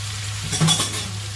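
A sweet-and-sour radish and carrot pickle is stirred in a pan as it cooks, giving a short, quiet scrape and sizzle that peaks briefly and then settles.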